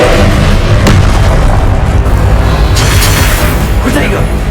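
A Confringo blasting spell goes off in Hogwarts Legacy, giving a loud, booming explosion with a dense low rumble that fills the scene, and combat voices and effects are layered over it.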